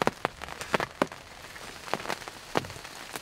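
Rain shower falling in woods, scattered drops striking nearby surfaces in irregular sharp taps over a soft steady patter, fairly close and alone.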